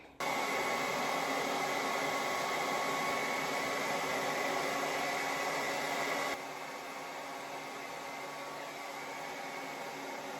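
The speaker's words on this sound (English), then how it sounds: "And then I blow dry." A hair dryer blows on hair in a steady, close whooshing whir, dropping to a slightly quieter setting partway through and running on without talk.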